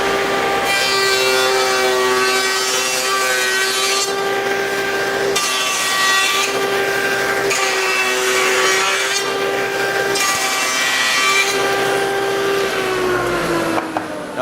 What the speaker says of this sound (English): it leaves a lot of sawdust all over the place, so there's a lot of wood being cut off